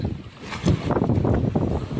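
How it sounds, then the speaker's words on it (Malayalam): Gusting wind buffets the microphone in loud rumbling bursts at the sea, with a rushing wash of waves underneath. "ഇതാ നല്ല കാറ്റിട്ടാ, തിരമാല, നല്ല തിരമാല."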